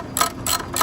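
A hand ratchet backs out a bolt on the fan drive motor of a Bobcat skid steer. It gives three quick bursts of close, rhythmic clicking in steady succession.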